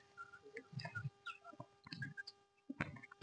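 Free-range desi hens clucking and squawking in short bursts close by, with scattered sharper calls and brief pauses between them.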